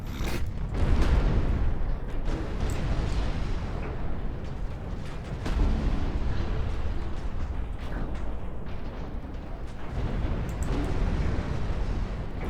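Heavy naval gunfire and explosions boom repeatedly as a large battleship with 18-inch guns is shelled in the naval strategy game Ultimate Admiral Dreadnought, with loud irregular blasts and rumbling in a dense, continuous barrage and no voices.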